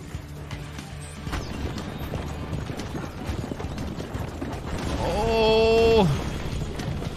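Steady clip-clop of horse hooves runs under speech in Assassin's Creed 2, followed by a loud horse whinny near the end.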